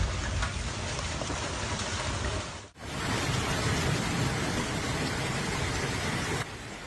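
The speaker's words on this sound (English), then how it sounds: "Heavy rains, strong gusts of wind and huge hailstones" A heavy downpour of rain and hail during a severe storm in France roars steadily, a dense wash that briefly dips around the middle before surging back just as strong.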